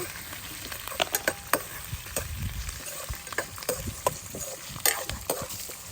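Curry leaves and spices fry and sizzle in hot oil in a pan, a steady crackling hiss broken by brief pops and the scrape of stirring, heard up close with no one talking.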